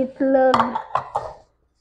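After a brief voice, a spoon strikes a bowl three times in quick succession while dates cake batter with eggs is mixed, each clink sharp, close and ringing briefly.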